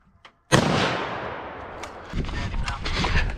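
A single loud gunshot fired at a big buck deer during a hunt cracks sharply after a brief quiet moment, then rumbles and echoes across open ground, with faint voices nearby.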